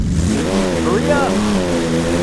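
A limousine's engine revs and accelerates in a driving video game, a rising mid-pitched whine under a close talking voice.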